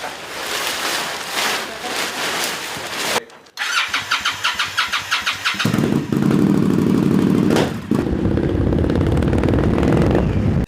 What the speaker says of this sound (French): Et ça, c'est ma moto.